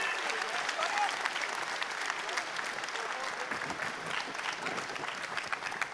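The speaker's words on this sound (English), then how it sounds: "Give him a round of applause." Sustained audience applause fills a large hall at the closing ceremony of the EVE Online Fanfest 2023 gaming convention, a dense, steady clatter of many hands clapping at even volume throughout, with faint crowd noise mixed in.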